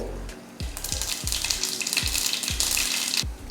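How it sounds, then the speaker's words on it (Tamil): Steady bright sizzling of mustard seeds crackling in hot oil for a tempering, continuous and close, with faint regular thumps underneath. "இப்போ தாளிக்கிறதுக்கு எண்ணெய் ஊற்றிக்கலாம்."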